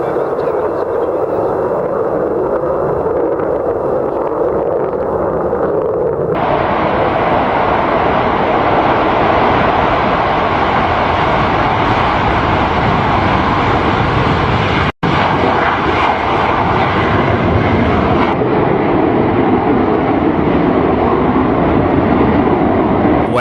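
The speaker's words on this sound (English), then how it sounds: "Not just a display, we've also got fly pasts." F-14 Tomcat jet aircraft making a display fly-past, a loud continuous broadband roar that swells and holds for over twenty seconds with no voices.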